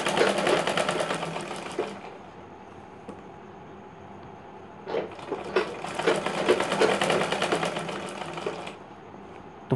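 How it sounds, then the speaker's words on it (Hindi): A sewing machine stitches a katori blouse in two bursts of rapid, even whirring, the first about two seconds long and a longer run after a pause, loud and close with no talk. "आगे और पीछे दोनों को खींचते हुए यहाँ पर हम सिलाई चलाते हैं"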